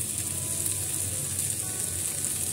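Chickpeas (kabuli chana) being lightly roasted in a pan, a steady, even sizzle and crackle that stays close and constant throughout with no voices over it.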